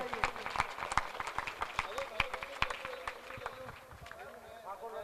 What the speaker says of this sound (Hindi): इनके लिए जोरदार एक बार तालियां बजाइए